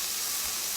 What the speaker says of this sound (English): I'm hitting my pan with just some stock